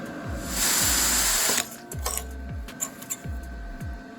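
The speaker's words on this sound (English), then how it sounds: "We'll have to clean the slag off of there" Slag being cleaned off a flux core weld on sheet metal with a power tool: a loud whirring burst followed by repeated short scraping and knocking strokes at a steady rhythm, close by with no talking.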